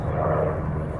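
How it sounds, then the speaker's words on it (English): Low-flying military helicopters pass over an Arizona homestead, producing a steady, loud, rumbling engine and rotor drone that fills the air without a break. "Military helicopters flying through our airspace."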